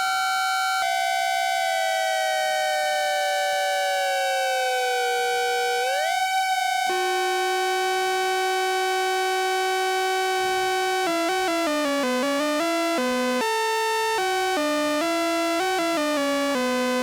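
Eurorack modular synth oscillators play together in a loud, sustained, buzzy electronic tone that first glides downward, jumps back up, holds steady, then steps through a quick series of changing pitches, with no voices.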